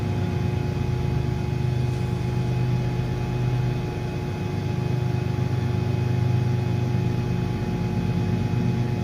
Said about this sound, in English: Helicopter or something.